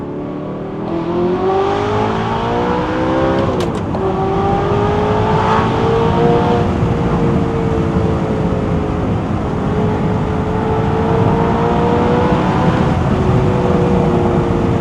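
Tuned Audi R8 with gated manual gearbox and loud exhaust accelerating hard from inside the car, a loud roaring engine climbing in pitch through the gears with a brief shift dip, sustained and close, no talk.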